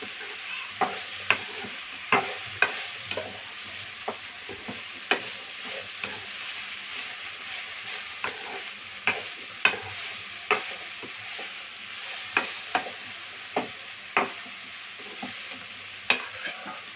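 Broad beans sizzle gently in a pan as a spatula clacks and scrapes against it at a regular, unhurried pace.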